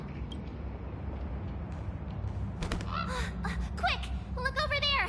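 Bird calls in Honkai: Star Rail: a few chirping, warbling calls in quick clusters over a low ambient rumble, arriving in the second half.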